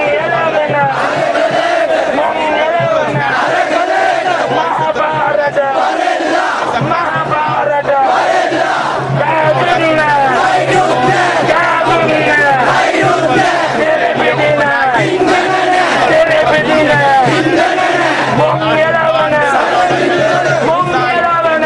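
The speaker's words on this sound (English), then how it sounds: "As you can see, there's a massive crowd gathered here today" Massive crowd of protesters demonstrating at Galle Face Green in Sri Lanka, a dense continuous roar of many voices shouting and chanting, steady and loud throughout with no pause.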